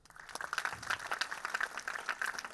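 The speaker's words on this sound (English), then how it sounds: "I would like one more round of applause" An audience at a music forum applauds in a steady wash of dense, overlapping claps, fairly faint and distant, continuing without pause and with no voices over it.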